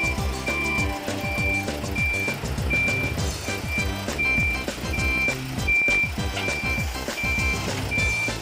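A tow truck recovering a broken-down older used Mercedes-Benz sounds a steady, evenly spaced reversing beep at a regular pulse over a loud, rumbling diesel engine and clanking equipment.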